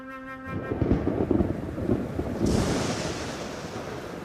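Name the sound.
thunder of an electrical storm in the desert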